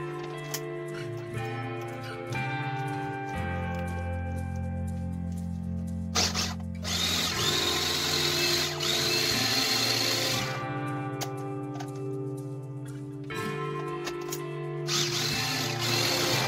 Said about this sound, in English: before I started using the food processor